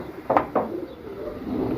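Two pigeons kept together give a couple of short cooing calls close by early on, followed by a soft, low burble over a quiet room.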